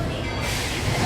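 The Walt Disney World Railroad train, the Walter E. Disney steam engine, at Magic Kingdom: a brief, loud, rushing rumble of the train that swells and fills the air, with no voices.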